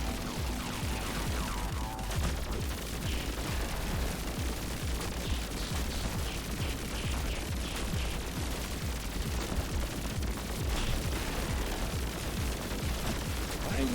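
Rapid, dense gunfire from the video game Pathogenic rattles on continuously, with bursts of shots layered over game effects at a steady, busy level.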